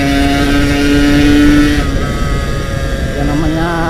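A Yamaha RX King motorcycle is ridden along a quiet road, its engine a loud, close, steady tone that drops in pitch partway through before climbing again.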